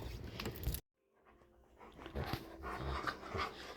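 Dogs pant close by indoors in quick, breathy bursts. The sound drops out for a moment and then builds back up, with a light jangle mixed in.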